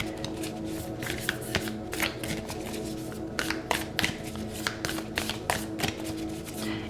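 Oracle cards shuffled by hand in a continuous, close riffle of papery flicks and soft taps, steady and moderately loud with no talking over it.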